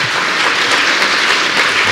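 An audience applauds after an evening event, a dense, steady wash of clapping from many hands throughout, with no voices.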